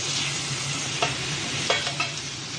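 Boiled basmati rice is stirred with drumstick leaf powder in a pan, a steady soft scraping and rustling with a faint sizzle and a few sharper scrapes of the spoon, heard close up with no talking.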